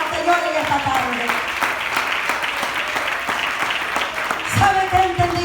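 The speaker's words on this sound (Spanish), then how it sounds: "Dele esas palmas al Señor en esta tarde." A church congregation claps steadily for the Lord during a Spanish-language service, a dense continuous patter of hands filling the room while voices call out and talk over it.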